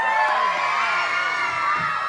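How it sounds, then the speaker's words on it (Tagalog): An outdoor street crowd at a neighborhood pageant in Tondo, Manila, cheers and shouts loudly, a dense wash of voices and whoops filling the whole brief moment. "Wala po bang hiyawan dyan?"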